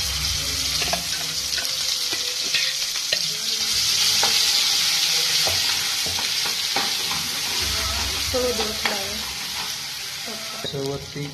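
Tomato fries in hot oil for paneer masala, with a loud continuous sizzle and frequent close stirring and scraping of a spatula against the pan throughout.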